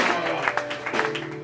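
A church congregation claps and cheers together in a sustained burst, with voices and musical tones mixed underneath, fairly loud and continuous throughout.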